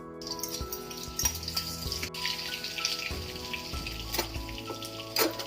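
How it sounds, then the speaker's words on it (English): Chili paste sizzling in cooking oil in a pan over rising heat, a soft steady frying hiss with scattered small pops and crackles, fairly quiet and close, with no talking. "Before the oil heats up, you can add the chili paste into the oil."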